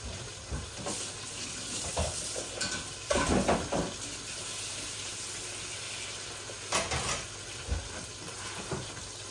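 Onions sizzle softly in a pan, stirred now and then with a few louder scrapes and clinks of the utensil, fairly quiet and close, no talking.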